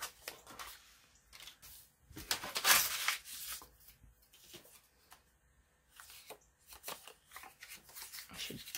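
Tea-dyed paper being torn by hand, a few dry ripping bursts with one louder, close tear near the middle and softer rustling handling around it.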